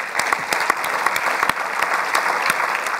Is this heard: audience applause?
yes